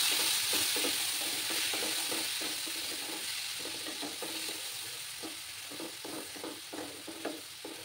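Onion paste frying in a pan, a continuous soft sizzle with repeated light scraping strokes as it is stirred, gradually easing in loudness with no voices.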